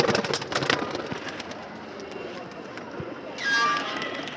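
Male pigeons leave an opened loft in a flurry of wing flaps and rustling, busiest at the start, then a brief louder burst near the end, with a voice present in the background.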